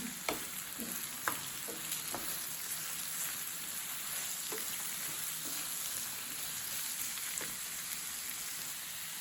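Leeks sizzle quietly in a pan while making egg kottu, a soft steady frying hiss broken by a few sharp taps and scrapes of stirring.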